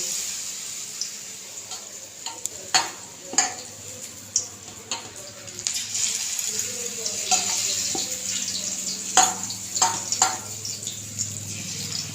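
Hot oil sizzles steadily with several sharp bursts and crackles as battered cauliflower pieces drop in, a close kitchen sound with no talking.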